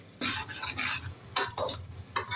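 Masala sautés in oil in a pan with bursts of loud, close sizzling as it is stirred in uneven strokes, the spattering rising and falling with each turn.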